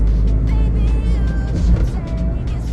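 Ford Figo second-generation diesel hatchback cruising in third gear on a district highway, heard from inside the cabin as a steady, loud engine drone mixed with constant road and wind noise.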